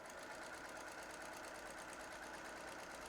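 A sewing machine runs steadily, stitching a quilted panel with green thread top and bottom, its fast even whirr continuing at a close, moderate level throughout.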